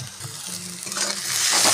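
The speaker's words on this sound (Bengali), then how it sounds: "গাজরগুলো ভালো করে তেলের সঙ্গে নেড়ে দেবো।" Chopped carrots stirred into hot oil with fried onion for vegetable fried rice, heard as a close, rising sizzle with scraping from the stirring spoon, and no talk.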